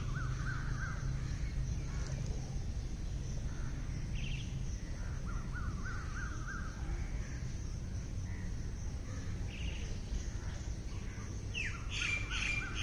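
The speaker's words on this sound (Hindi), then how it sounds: "इस बीच पक्षियों की आवाजें आ रही हैं तो आने दें।" Crows caw and squawk repeatedly over a steady outdoor background during a quiet breathing and meditation session, with scattered bird calls, some near and some farther off, and no talking.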